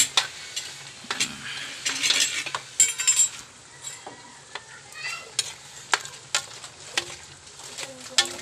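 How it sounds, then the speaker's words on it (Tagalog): Tomato paste being stirred into a dish cooking in a pan, with repeated clinks and scrapes of a utensil against the pot over a soft sizzle, close and fairly loud, no voices. "Tapos hahaluin natin yan guys."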